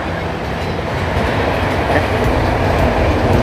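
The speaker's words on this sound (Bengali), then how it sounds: "ট্রেন যাচ্ছে" A train rolls past nearby, a continuous rumbling clatter of wheels on the rails from start to finish.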